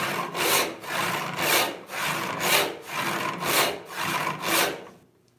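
Hand saw resawing an 8-inch-wide walnut board, about eight steady push-pull strokes in an even rhythm, close and loud, ending in quiet.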